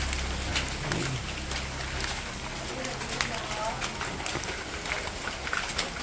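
Steady rain falls on a soaked village road, a constant hiss under and between people talking nearby.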